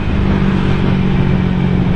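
Honda Vario motorcycle engine running with a loud, steady, low rumbling drone close to the microphone, continuous and unchanging throughout.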